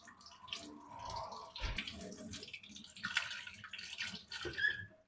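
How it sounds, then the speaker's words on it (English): A robot vacuum's filter rinsed under a running tap, soft splashing and trickling water with small drips, faint and close, with some handling sounds. "all you do is run it under the tap, just wash all the dirt off the filter till it's nice and clean"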